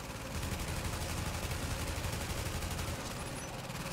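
Weapon fire in The Division video game, a continuous rapid burst of automatic gunfire rattling steadily for several seconds at moderate level, with no voices.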